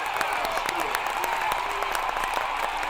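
Audience applause at a Macedonian comedy or satire show, with dense, steady clapping that fills the whole moment at a fairly loud, even level with no pauses.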